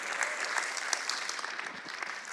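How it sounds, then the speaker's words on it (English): A church audience claps in dense, steady applause, moderately distant and continuous throughout. "I believe that deserves a round of applause"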